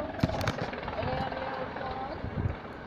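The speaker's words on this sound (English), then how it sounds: "Aaron, that's a police chopper." A police helicopter's rotor chop throbs steadily in the background while people talk over it.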